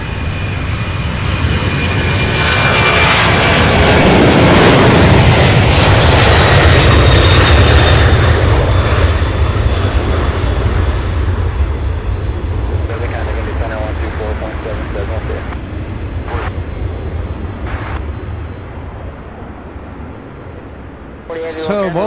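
A UPS MD-11 heavy jet departs with a loud, sustained engine roar that builds early, holds, and slowly recedes, while radio voices and talk break in intermittently toward the end.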